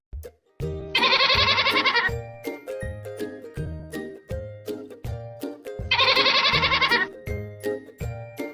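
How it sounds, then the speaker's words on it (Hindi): A goat bleats twice in long, wavering cries, with a steady rhythm of jingling bells or chimes running under and between the calls. "राक्षस ने हवा में से एक बकरी को हाजिर किया"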